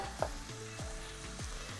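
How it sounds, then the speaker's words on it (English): Onions frying and caramelizing in a pan, a steady close sizzle with stirring scrapes and a brief clink near the start, no voices. "Onions are cooking very nicely and caramelized"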